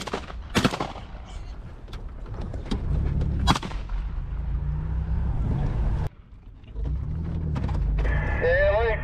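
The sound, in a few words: 12 gauge shotgun shot at a hog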